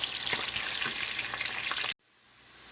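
Onions fry in hot oil for Karachi-style haleem, a dense loud sizzle with stirring that cuts off abruptly, leaving a faint low hiss.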